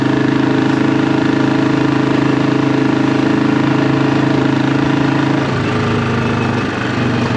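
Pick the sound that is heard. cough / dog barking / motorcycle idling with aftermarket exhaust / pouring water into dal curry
motorcycle idling with aftermarket exhaust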